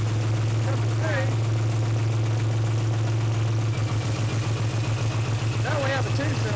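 A diesel engine in an ag power shop idles loud and close with a steady low drone. Partway through it turns into a rougher, lumpy pulse as cylinders are shut off one by one, and voices speak briefly over it.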